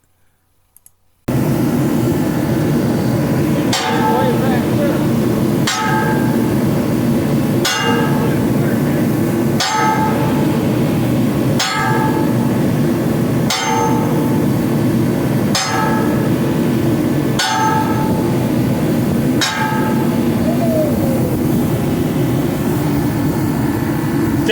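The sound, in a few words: sledgehammer slugging a nut on a ship's starboard wheel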